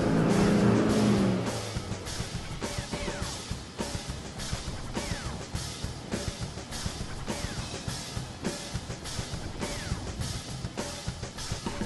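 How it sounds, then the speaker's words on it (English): An Isuzu ute rolls downhill on sand in second gear, low range, its engine a moderate, uneven hum with recurring rhythmic clicks and thumps throughout, no voices. "And then just take second gear, low range, off we go."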